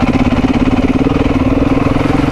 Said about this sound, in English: let's see how low we can lug this thing